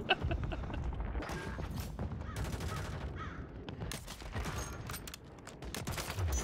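Sniper rifle fire during a Warzone 3 match, sharp gunshot cracks scattered among dense, loud battle noise and other gunfire, with no talking over it.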